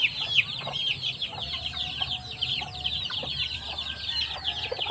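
Chickens cluck and a rooster calls now and then in a rural yard in Maribojoc, the bird sounds faint and fairly distant over steady high insect buzz and a low hum.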